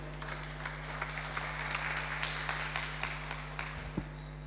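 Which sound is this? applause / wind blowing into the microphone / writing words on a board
applause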